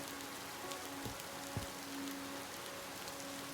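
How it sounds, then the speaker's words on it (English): Steady rain drumming on a surface, heard from indoors in the video game Alaska Gold Fever, a constant soft wash of patter with a couple of faint low thumps and no talking. "Still hear the rain inside here."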